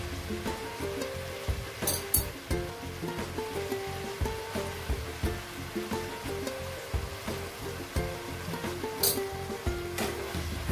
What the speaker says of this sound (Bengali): এবার ভাজা মাথাগুলো দিয়ে দেবো।